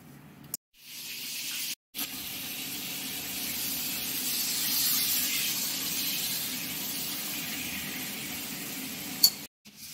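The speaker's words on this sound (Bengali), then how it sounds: "গরম তেলে কালো জিরে ফোড়ন দিয়ে দেওয়া হলো" Black cumin seeds tempered in hot oil before frying eggplant for a hilsa fish curry give a steady, close, bright sizzling hiss, broken by a couple of brief cuts near the start and end.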